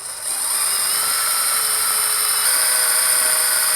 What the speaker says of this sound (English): This is a really soft aluminum wheel, so they drill pretty darn easy.